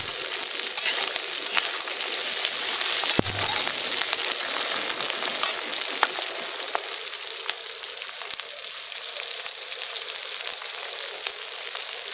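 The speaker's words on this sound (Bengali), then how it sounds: "পেঁয়াজটা এই যে হালকাভাবে ভাজা হয়ে গেছে" Chopped onion and minced garlic frying in oil for a jackfruit chilli dish, giving a steady close sizzle throughout with a sharp clink of a utensil partway through.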